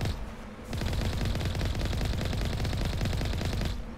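Rapid automatic weapon fire in Mass Effect Legendary Edition, a loud dense burst of evenly spaced shots lasting about three seconds, starting abruptly and cutting off near the end.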